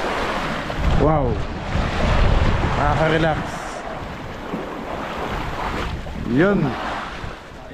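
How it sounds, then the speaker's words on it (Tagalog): Ocean waves splash beside a mother boat at sea on a blue marlin fishing trip, a continuous rushing surf with gusty wind noise on the microphone, while someone speaks briefly a few times. "Habang nadidinig yung mga tilamsik ng alon."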